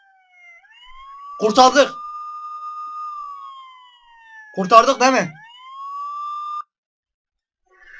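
An ambulance siren in a Minecraft game wails in long rising and falling tones, steady and clear, while two short bursts of speech cut in over it before the siren stops abruptly.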